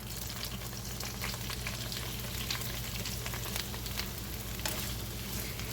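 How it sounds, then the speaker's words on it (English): Green beans crackle and sizzle steadily in hot olive oil over medium-high heat, a dense, even frying hiss holding close and constant throughout with no one speaking. "I've heated up 2 tablespoons of olive oil over medium-high heat, and I'm going to go ahead and I'm going to add my green beans to it"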